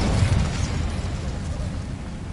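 A burst of Incendio fire spell from Hogwarts Legacy, cast at a moonstone site: a dense, sustained roar of flame and rumbling burst, loud and close, with no talk over it.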